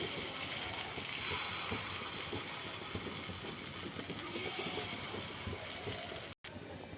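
Pongadalu fry in a covered pan while being made into manchurian, giving a dense, continuous crackling sizzle with fine rapid pops. The sound cuts out briefly near the end.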